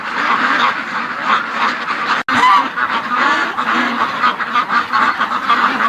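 A pen of stressed ducks gives continuous loud, overlapping quacking and honking close by, with no talk.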